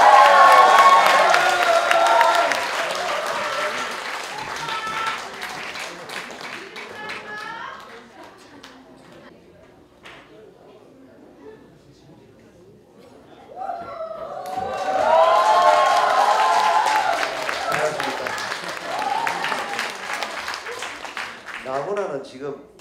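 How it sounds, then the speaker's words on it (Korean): Audience applause at a Korean trot singer's stage show, clapping mixed with a talking host at first, fading to near quiet, then swelling again into a fuller burst of clapping and crowd noise. "박수."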